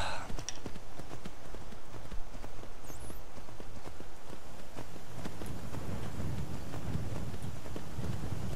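Horse hooves clip-clopping in Skyrim, a steady rapid run of hoofbeats with a constant rumbling background, while a voice talks over part of it.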